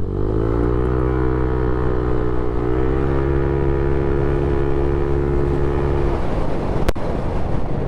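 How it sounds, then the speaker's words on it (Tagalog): A motorcycle fitted with a CRP Power Pipe exhaust runs at high speed, a loud sustained engine drone with a steady then rising pitch, mixed with wind rush, fading into broadband noise near the end. "pero yun yung tunog ng CRP pag high speed"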